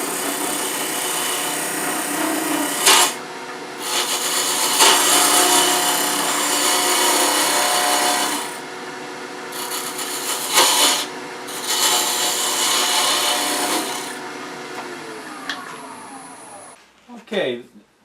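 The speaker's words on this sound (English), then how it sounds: "Mark it and put a tenon on it for the chuck." A block of pear wood spinning on a lathe while a tool cuts a tenon for the chuck, producing a continuous close scraping, rasping whine with brief pauses and tool lifts, then the machine winds down near the end.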